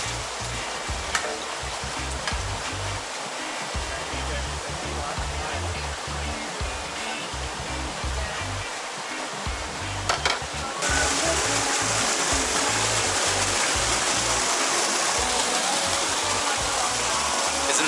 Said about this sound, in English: There's a God-made waterfall in front of me.